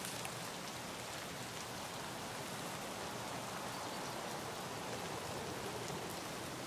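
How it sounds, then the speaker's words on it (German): Rain in the video game Escape from Tarkov, a constant hiss of falling drops spread evenly across the scene, steady and moderately quiet with no voices. "wenn es regnet, dann hört sich es immer so an, als wäre da was, aber in Wirklichkeit ist da nichts."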